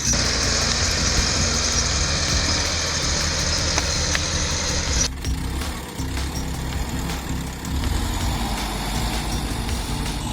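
Diesel engine of an LKD81 Turbo mining excavator runs steadily at close range, a continuous low rumble with a dense mechanical hiss that eases slightly after the midpoint.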